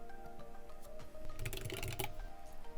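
Keys on a computer keyboard clatter in a short quiet burst of typing a search, close by and without talk.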